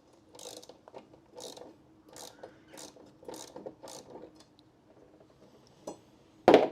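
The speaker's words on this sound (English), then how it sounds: "we have to get this locking nut, and we have to do it up all the way to the bottom" A ratchet tightening a locking nut down onto a van's water tank during a build, with a regular series of quiet clicking strokes separated by short pauses, then one louder clatter at the end.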